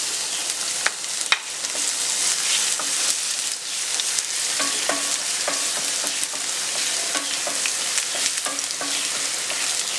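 Crushed unpeeled garlic frying in hot oil for a pork curry, a steady close sizzle with occasional stirring clicks and scrapes throughout.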